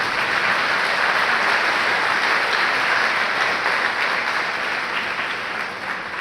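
A dense, steady round of audience applause at an evening event honouring Victor Alex Anaclet and his team, loud and continuous before easing slightly near the end.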